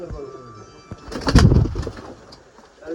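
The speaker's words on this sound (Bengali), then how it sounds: "খুবই সুন্দর কবুতর" A pigeon coos close and loud in a village mango orchard, one swelling throaty call in the middle of a quieter outdoor background.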